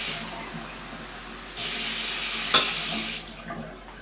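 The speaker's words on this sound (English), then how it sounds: "you want to make sure that you put some water into it" Water hisses steadily from a tap for a couple of seconds, filling a pot of pulled pork and onions, then stops against a quiet kitchen background.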